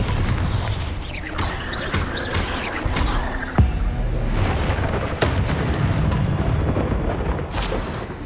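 Confringo blasting spells explode in Hogwarts Legacy, heavy booming blasts over a dense, continuous battle din, with a sharp crack around the middle and another burst later.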